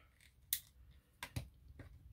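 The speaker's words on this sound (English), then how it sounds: "we're just going to make a clean cut edge" Scissors cut quilt fabric for a clean edge, giving a few quiet, separate snips and crisp cutting sounds with pauses between them in a quiet room.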